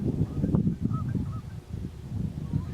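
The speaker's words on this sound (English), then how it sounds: "There's just geese over there." Several geese honk from some distance across open country, their calls repeating in short, uneven bursts over a low outdoor rumble.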